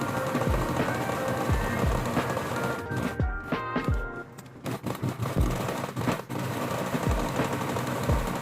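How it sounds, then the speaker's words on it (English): Sewing machine zigzag-stitching along the sides of fabric for a small pillowcase, a steady rapid mechanical whir with regular needle thumps, close and continuous with a few brief pauses. "sew the sides again with a zigzag stitch or maybe use an edging machine"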